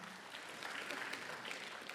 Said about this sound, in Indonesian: Beri tepuk tangan yang meriah sekali lagi